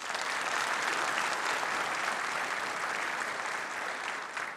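Applause from a concert audience at a Turkish folk music concert, a broad, even sheet of clapping from a large crowd, steady and somewhat distant, with no voices over it.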